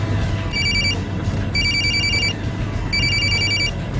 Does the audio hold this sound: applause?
no